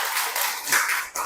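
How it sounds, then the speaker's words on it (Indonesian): Brief burst of audience clapping for a participant in a university teaching session, a dense patter of hands that dips near the end. "Tepuk tangan untuk Ratna dulu."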